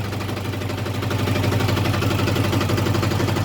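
A walk-behind tractor engine, just restarted after corroded battery terminals were cleaned, runs steadily with a loud, even, throbbing idle close by and no talk.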